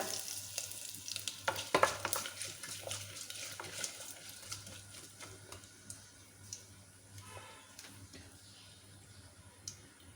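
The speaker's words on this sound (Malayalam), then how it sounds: "വെളിച്ചെണ്ണ ചൂടായിട്ടുണ്ട് കുറച്ച് കടുക് ഇട്ട് കൊടുക്കുകയാണ് കടുക് പൊട്ടി കഴിഞ്ഞിട്ടുണ്ട്" Coconut oil crackles and sputters as mustard seeds and dried red chillies fry, a busy popping sizzle that gradually settles, with occasional light clinks nearby.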